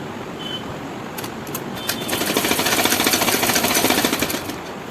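A sewing machine stitches the seam of a blouse, starting with a few scattered clicks before settling into a fast, even mechanical rattle that runs loud and close for several seconds.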